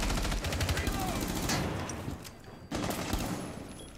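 Rapid bursts of automatic gunfire in Rainbow Six Siege, dense rattling volleys that pause briefly and then resume, close and loud.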